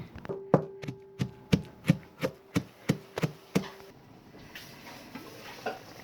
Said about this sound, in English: I'm going to mash the okra in the mortar.